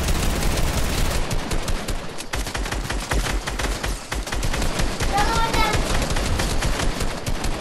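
Dense rapid gunfire in a shooter video game, loud overlapping bursts almost continuous throughout, with a voice talking faintly underneath.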